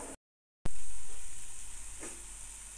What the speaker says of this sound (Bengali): এবার সমস্ত মশলাকে খুব ভালো করে কষাতে হবে যতক্ষণ না